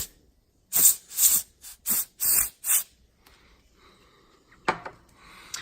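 Several short, sharp bursts of spray hiss in quick succession, close by, cleaning the ports of a MacBook Pro laptop, followed by quieter rustling and one more brief spray.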